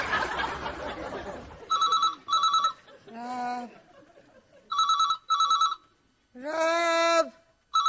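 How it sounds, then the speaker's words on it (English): Telephone bell ringing in a home scene from the 1999 Rab C. Nesbitt comedy series: four sharp double rings in an even rhythm, close and loud, with voices calling out and talking in the gaps. "Phone, Rab!"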